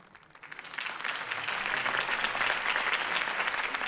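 Crowd applause at a political campaign rally in the Batman Telltale Series game swells from a quiet start into a dense, steady roar of clapping that holds strong to the end.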